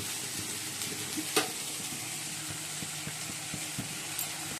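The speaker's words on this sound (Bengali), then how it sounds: "বরবটি আলু ভাজা হয়ে এসেছে।" Yardlong beans and potatoes fry in a pan with a continuous hiss and light stirring scrapes, one sharper clank early on, heard close with no talk.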